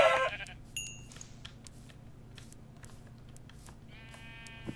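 A sheep bleats in the Minecraft video game, one wavering synthesized bleat near the end, following a quieter stretch of game ambience with scattered clicks and blips; no speech over it.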